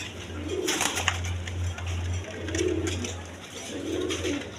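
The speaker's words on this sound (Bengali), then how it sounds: "দোনোটাই মাদি কবুতর" Two female pigeons at a farm coo in three spaced, soft rolling phrases, near but gentle, over a constant low electrical hum.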